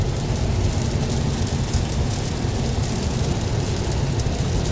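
Heavy downpour drums steadily on a Tesla Model 3 driving on autopilot along a highway in Wisconsin, a dense, constant wash of rain and road noise with no pauses.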